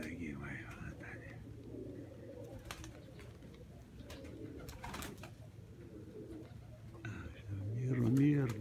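Pigeons cooing in a loft while newly acquired birds are checked during the moult, low soft coos repeating in the background and growing louder near the end.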